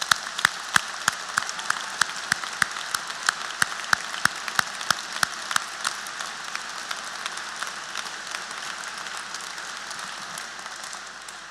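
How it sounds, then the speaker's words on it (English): Graduation ceremony audience applauding graduating students, opening with loud, evenly spaced sharp claps near the listener over a dense crowd clapping that then settles into a continuous steady roar. "if you'd just join me in a round of applause for our graduating students"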